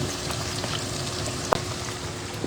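Garlic frying in a pan gives a steady, close sizzle and crackle throughout, with one sharp pop partway through and no voices.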